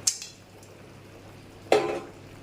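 Fish dropped into a cooking pan with a metallic clatter near the start and a louder clunk with brief sizzle later, close and otherwise quiet.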